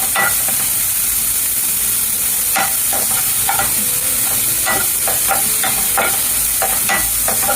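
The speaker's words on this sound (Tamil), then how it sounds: "இது சும்மா கொஞ்சம் வதக்கிடுங்க" Leaves sizzle in hot oil in a pan, with a constant loud frying hiss and scattered scraping stirs of a spoon.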